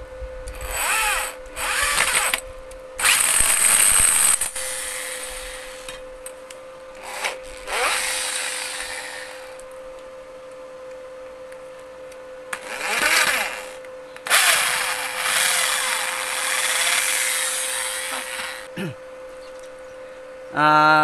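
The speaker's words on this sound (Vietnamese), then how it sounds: "Như vậy là chúng ta sẽ khoan một cái lỗ để luồn dây" Hand drill boring a hole through a seamless steel tube for a slingshot crossbow trigger, heard in several loud bursts of whirring and grinding separated by pauses, with some quieter handling noise between them.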